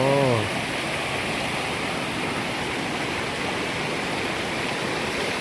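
Fast-flowing water pours through the channel of an overflowing lake at Kompally, a loud, close, continuous rushing roar with a brief voice at the very start.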